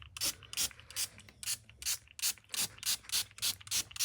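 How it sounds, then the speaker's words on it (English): Acid being sprayed onto the rusty floor of a Jeep XJ, about a dozen short, regular hissing bursts in a steady rhythm, close and fairly loud with no talking. "We're putting acid on it"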